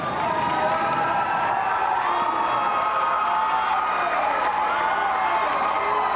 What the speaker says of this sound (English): Got some cheering in there